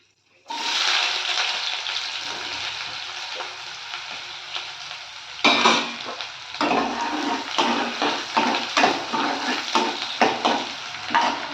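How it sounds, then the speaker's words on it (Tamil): Onions and three dried red chillies sizzle and fry in sesame oil, a steady close crackle with stirring scrapes and louder bursts of frying midway, no talk. "ஆனியன் நல்லா வதங்கட்டும்"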